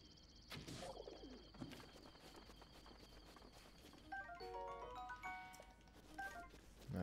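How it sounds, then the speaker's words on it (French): A pigeon coos softly in a Zelda video game, a few low, rounded calls under a quiet ambience broken by brief game effects and chiming tones. "c'est un pigeon"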